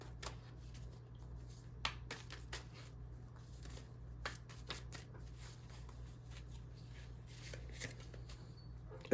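Tarot shadow cards are shuffled by hand in a quiet room, giving faint, repeated soft riffles and taps over a low steady hum.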